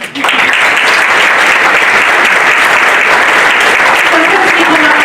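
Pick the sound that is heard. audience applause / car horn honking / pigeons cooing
audience applause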